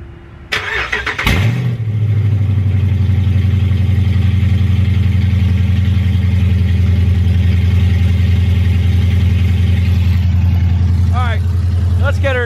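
A car engine on open headers with no catalytic converter cranks and fires up with a loud bark, then settles into a steady, rough, throbbing idle close by. A voice is briefly heard near the end.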